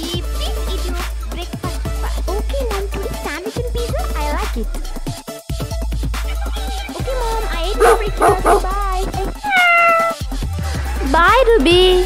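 Cartoon-style cat meows ring out several times, mixed with speech, a dog bark and background music in a children's morning story.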